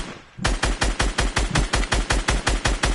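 Rapid automatic gunfire in a PS4 video game, a loud close burst of about fifteen evenly spaced shots firing continuously after a brief quiet start.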